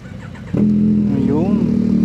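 A motorcycle engine starts and settles into a steady, close idle as it warms up on a cold, foggy morning, with a brief rise in revs partway through.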